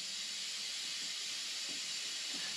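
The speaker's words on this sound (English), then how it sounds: "I hear air leaks." Compressed air leaks from a truck's air brake system as a steady, faint, broadband hiss, with a few soft low thumps beneath it.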